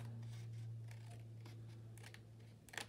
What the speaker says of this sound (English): So I'm going to snip that off.